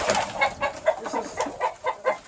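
Black Australorp chickens cluck in alarm inside a coop, a quick run of sharp repeated clucks about every quarter second, close and loud with no talk.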